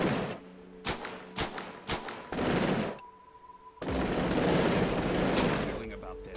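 Turrets in the Cepheus Protocol video game fire several short, sharp bursts of rapid gunfire, then a longer sustained volley, loud and close with brief pauses between.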